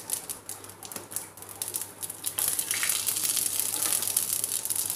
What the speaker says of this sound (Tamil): கடுகு உளுத்தம்பருப்பு நல்லா பொரியுது பாருங்கள்.